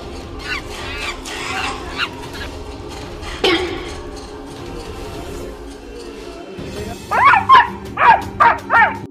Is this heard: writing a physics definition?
no